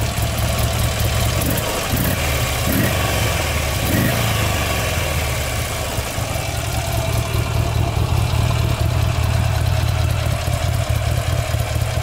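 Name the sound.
quad bike engine revving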